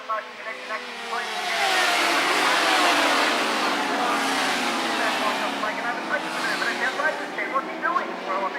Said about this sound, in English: Mad Mike passes 2 bikes around turn 2 on the opening lap